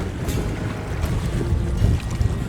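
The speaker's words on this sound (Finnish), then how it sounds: "Ikävästi tämä tuuli puskee mua päin noita rantakiviä." Strong wind gusting across a lake while packrafting near rocky shore, loud buffeting rumble on the microphone with water sloshing against the small raft, steady and close throughout.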